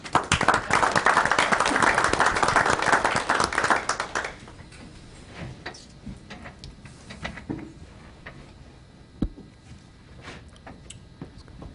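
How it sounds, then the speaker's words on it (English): Applause fills a city commission meeting, a dense burst of clapping for about four seconds before it thins to scattered claps, shuffling and small room noises. "Round of applause."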